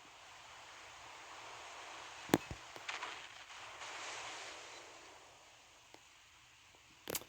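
Ship guns fire in a naval combat video game, a sharp close blast followed by a few fainter scattered booms and a final burst, over a low steady hiss.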